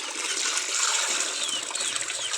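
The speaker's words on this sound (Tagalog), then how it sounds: "Dadagdagan po natin ng tubig ang kanilang inumin." Water pours steadily into a drinking container for ducks, a continuous bright splashing trickle close by with no pause for its whole length.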